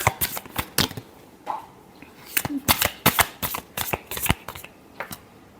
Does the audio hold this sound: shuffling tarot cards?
yes